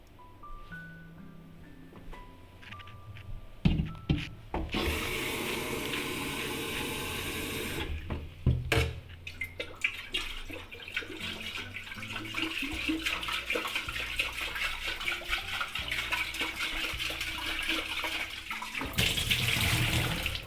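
A water tap runs steadily in a room in Baguio, rinsing with a broad hiss that starts and stops, broken by clunks and handling knocks near the mic, with no talking.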